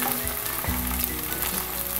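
Onions sizzle in a hot pan with ginger paste just added, giving a constant close frying hiss with a brief stirring scrape.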